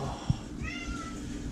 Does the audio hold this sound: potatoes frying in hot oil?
no